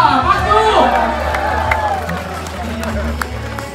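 Guests at a wedding reception clap and cheer amid a lively crowd. An announcer's voice carries over the applause, with occasional whoops and sharp claps standing out.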